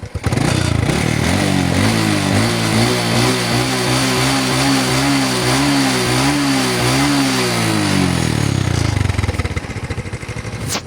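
A stock Honda Wave 125X motorcycle engine runs loud and close with a steady idle, with revs rising and falling in smooth waves through the middle, then settling before cutting near the end.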